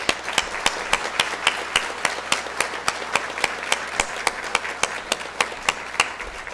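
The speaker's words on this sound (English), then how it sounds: "If you would join me in a round of applause for her." An audience at a college honors awards ceremony applauds steadily, with a dense wash of clapping from a roomful of people and a few sharper individual claps standing out at a regular pace.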